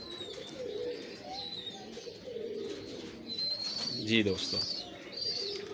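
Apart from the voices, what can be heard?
pigeons cooing in a breeder setup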